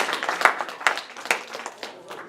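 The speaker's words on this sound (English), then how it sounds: "Let's give them a big round of applause" An audience claps for a lecture at a Hanukkah event, a short burst of scattered hand claps with a few sharp, distinct slaps, at moderate level.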